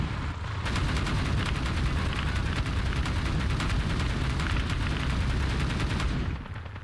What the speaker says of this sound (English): the T-64's machine gun sounds very muffled